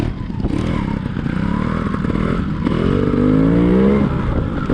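Trials motorcycle engine revving hard up close, the pitch climbing and falling through uneven throttle blips with some clatter, louder and rising toward the end.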